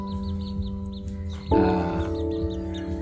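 Clucking fowl calls sound against a steady hum, with a sudden louder burst halfway through that continues as a noisy chorus.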